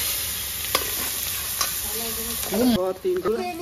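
Steady oil sizzle as bay leaves, dry red chillies, whole cumin and chopped onion fry in a pan, with a sharper crackle and stirring near the end.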